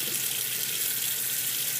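Running tap water rinses a makeup brush, a steady close hiss of flowing water with no breaks or talking.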